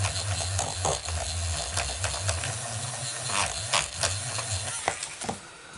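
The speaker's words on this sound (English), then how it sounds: "Just going in and erasing that circle." Continuous scratchy rubbing of an eraser on paper, with brief strokes and small ticks, close up, under a steady low mechanical hum.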